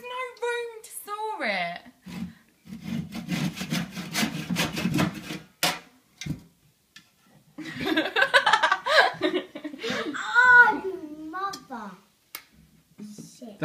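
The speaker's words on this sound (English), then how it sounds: "What do you think of her sawing, Charlie?" Rhythmic rasping strokes of a hand saw cutting wood, fast and close, with talking and laughter before and after.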